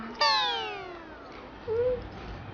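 A single clear cat meow rings out close by, followed moments later by a shorter, softer mew against quiet room noise.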